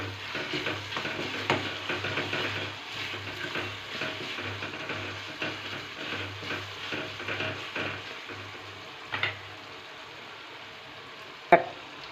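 A spice mixture with salt is stirred in a pan for roasted brinjal bharta, giving a low, steady sizzle with intermittent scraping and a couple of sharp clinks near the end.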